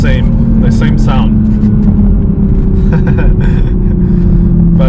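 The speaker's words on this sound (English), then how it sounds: "Still, the turbo noise is very loud" Toyota Supra MK5 with a CTS high-flow turbo inlet pipe, loud steady engine drone and turbo whoosh while cruising, close and constant, with someone talking over it.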